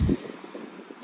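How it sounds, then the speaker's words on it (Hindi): Strong cold wind buffeting the microphone outdoors, a low rushing roar with a hard gust at the start, then steadier, fainter blowing. "इतनी सख्त कोई तेज़ हवा चल रही है और इतना मौसम कोई ठंडा है"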